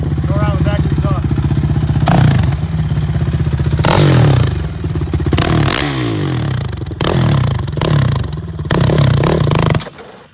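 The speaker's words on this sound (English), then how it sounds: "It's a quad racer, it's rear-wheel drive, and it's an amazing, amazing fast machine." A 2007 Suzuki LTR 450 rear-wheel-drive quad racer runs loud and close at the exhaust, its engine blipped through repeated sharp revs that rise and fall in short bursts with a clattering idle between them.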